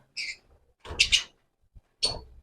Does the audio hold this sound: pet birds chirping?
yes